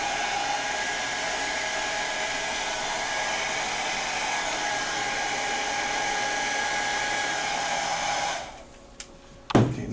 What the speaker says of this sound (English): I'm going to use a heat gun here to shrink it.